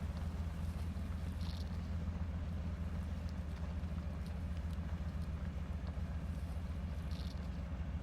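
Low, steady engine drone of a modded truck crawling slowly through deep mud in Spintires, a constant rumble with no breaks and a couple of faint higher clicks.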